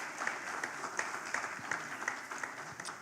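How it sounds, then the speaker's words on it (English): Audience at an emerging markets forum applauds a speaker, a steady wash of many hands clapping at moderate distance, fairly even in level across the few seconds with no one speaking over it. "Please let's keep the applause going,"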